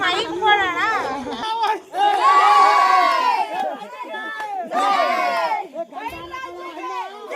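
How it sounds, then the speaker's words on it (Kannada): A lively crowd of young people at a survey camp cheers and shouts in bursts, voices overlapping in excited chatter and whoops, close and loud throughout. "ಇಲ್ಲಿ ನಮ್ ಕ್ಯಾಂಪ್ ಹೀರೋ ಮಾವನ್ಗೆ ಜೈಕಾರ ಆಗ್ತಿದ್ರು"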